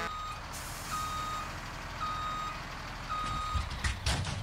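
A Peterbilt truck in the video game Farming Simulator 17 reverses with a steady engine rumble under regular, evenly spaced backup beeps, loud and close, with a brief hiss near the end.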